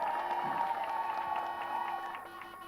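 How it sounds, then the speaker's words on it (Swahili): Applause from a gathered congregation at a Catholic parish commissioning, a steady wash of clapping with faint cheers sustained throughout, moderately distant. "Makofi."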